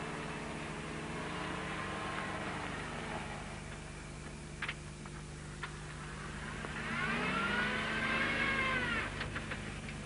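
Land Rover engine revving as it accelerates off-road in second low gear, a faint, steady drone that rises in pitch toward the end, with a few soft clicks.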